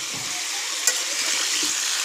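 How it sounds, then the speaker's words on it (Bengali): Potatoes fry in oil on a wood-fired village stove, giving a steady bright sizzle up close with one brief sharp tick partway through. "আমি এখানে আলু ভাজতে চাপিয়ে দিয়েছি"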